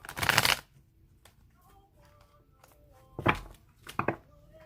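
A deck of playing cards being shuffled, with a loud riffle burst at the start and two shorter riffles near the end, close up with quiet room noise between.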